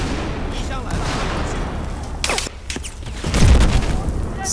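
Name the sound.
gunfire in the video game Battlefield 4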